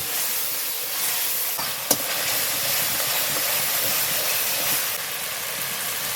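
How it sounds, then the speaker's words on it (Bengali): Ginger-garlic paste and spices fry in hot oil for a chicken curry, giving a steady broadband sizzling hiss throughout with a brief sharp tick near the start, no talking. "এখন এই মশলাগুলো সুন্দর করে আমি কষিয়ে নেব"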